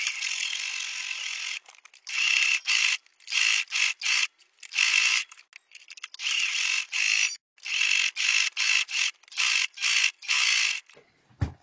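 Sewing machine stitching a bustier, running in short rapid bursts with brief pauses between them, close and steady, no voices.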